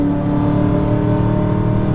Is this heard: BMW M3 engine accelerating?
yes